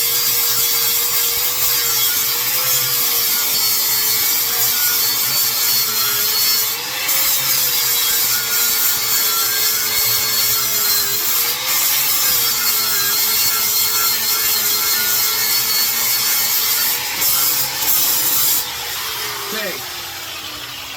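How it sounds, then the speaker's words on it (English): A new flap wheel on a grinder scours rust and weld metal off a rusty Jeep, giving a loud, steady abrasive whine with a continuous grinding hiss that stays near and unbroken throughout. "this is a new flap wheel"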